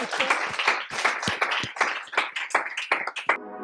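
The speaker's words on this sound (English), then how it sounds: "one last round of applause" A lecture audience claps at the end of a talk in a dense burst of individual hand claps that stays fairly close and steady, then cuts off abruptly.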